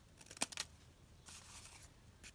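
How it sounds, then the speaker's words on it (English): Scissors cut paper in a quiet room: a few quick, faint snips near the start, then a softer rustling cut a moment later. "So I'm just going to cut it down here."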